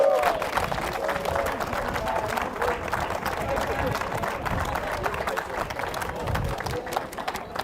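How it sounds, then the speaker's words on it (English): Fans at a VAFC versus British Airways football event applaud, a rough, lively patter of clapping with crowd chatter and a few shouts underneath, continuing steadily for several seconds. "So let's give all of our fans a big round of applause"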